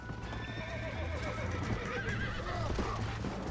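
A horse in Red Dead Redemption whinnies over a steady clip-clop of galloping hooves, with faint wind and ambient game sound underneath.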